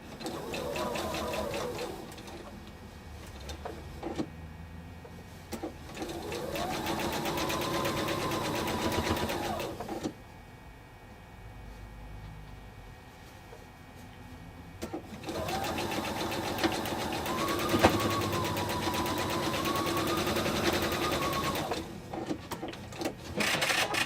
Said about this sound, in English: so that is my first horizontal seam